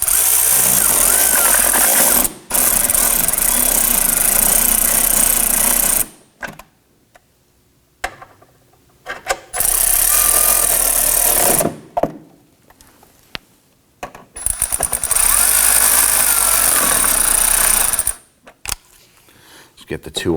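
Power tool driving bolts up through the fender liner of a 2018-2024 Toyota Camry, loud whirring bursts of several seconds each with pauses and small clicks between them.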